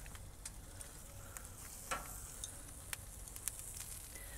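Lamb chops hit a very hot charcoal barbecue grill and sizzle with a soft continuous hiss broken by scattered sharp pops and crackles, close but fairly quiet, and no one talks.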